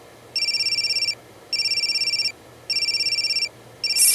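A telephone rings in a domestic TV drama scene, four bursts of bright trilling electronic bell at regular intervals, loud and close with no voices over it.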